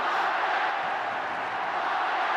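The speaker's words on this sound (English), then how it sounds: "The crowd chanting the Tigers." Rugby league crowd at a 1988 Winfield Cup semi-final between Manly Warringah and Balmain Tigers, a dense continuous roar of massed voices chanting for the Tigers, filling the stands without pause.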